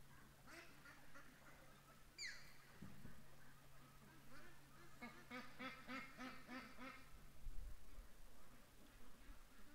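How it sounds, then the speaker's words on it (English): Several ducks coming down a creek quack in a busy cluster, fairly near, with repeated calls overlapping over a low background hum. "and then all the ducks come down the creek"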